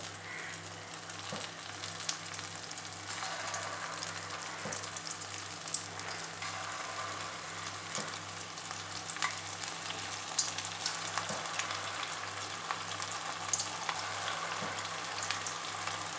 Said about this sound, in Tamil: எண்ணெய் நல்லா சூடாயிடுச்சு. சின்னதாக ஒரு உருண்டை போட்டு பார்க்கலாம்.